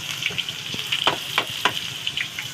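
Jackfruit cooking in coconut milk in a hot pan, giving a continuous frying sizzle broken by several short bubbling pops and light stirring sounds, close up with no voices.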